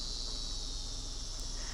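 Cicadas in the Higurashi When They Cry game drone in a steady, shrill, continuous buzz that stays level and unbroken throughout, with no voices over it.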